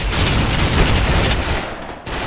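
Gunfire in the online shooter Special Force, with bursts of rapid automatic shots and a few heavier booms crackling back and forth, fairly close and loud, easing briefly before another shot near the end.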